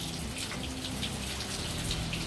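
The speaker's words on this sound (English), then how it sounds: "It's still raining" Steady rain falls outdoors as a continuous, even wash of patter and drips, unbroken and fairly close throughout with no voices.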